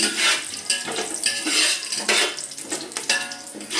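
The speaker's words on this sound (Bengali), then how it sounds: "তার সঙ্গে তেজপাতা এইটা ভালো করে একটুখানি ভাজা ভাজা হয়ে গেলেই" Bay leaves and whole spices frying in hot oil in a pot for chicken polao, a close steady sizzle with repeated clinks and scrapes of a stirring spoon against the metal.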